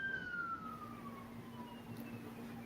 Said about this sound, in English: Is that an ambulance in the background?